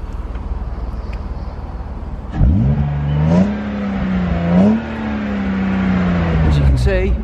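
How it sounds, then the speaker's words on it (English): A smoking BMW E36 engine, suspected of a worn piston ring or head gasket, idles and is then revved in two rising surges that settle into a high steady drone, heard up close. "And when we rev her up,"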